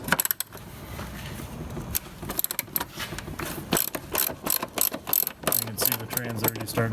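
A hand ratchet breaking loose transmission bolts under a Mazda RX-7 with a turbo build, clicking in quick irregular runs of sharp pawl ticks, close and loud, with short pauses and metallic clinks between strokes.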